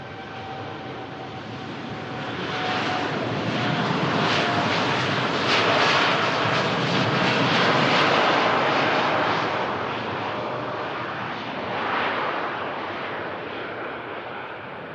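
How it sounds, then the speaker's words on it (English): A TUI Boeing 787-9 Dreamliner's jet engines spool up for the takeoff roll at Manchester Airport, a loud, steady roar that swells and holds for the whole stretch, heard from a distance with no one speaking. "There's this TUI Dreamliner. Commences the spool up and takeoff roll"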